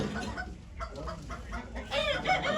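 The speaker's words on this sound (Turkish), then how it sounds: "Normal sendi horozları." Ordinary roosters at a chicken auction in Ankara cluck and murmur nearby in short, uneven bursts, with a brief crowing-like call rising near the end.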